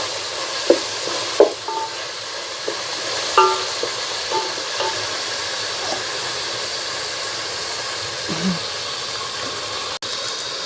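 Onions sautéing in a pan to a deep maroon, with a steady loud sizzle and hiss and a few sharp scrapes and stirs of a spoon against the pan, no talking.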